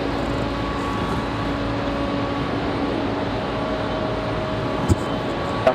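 Engines of a Delta CRJ regional jet hum and whine steadily at an airport runway, a constant moderate drone with a couple of brief clicks near the end.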